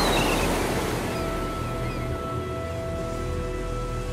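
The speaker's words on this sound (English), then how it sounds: "Turbulent weather systems collide off the island's coast, causing vicious storms and dangerous swells." Ocean waves and swells off the stormy coast of Iceland, a loud, broad, steady roar of surf with wind, constant across the whole stretch.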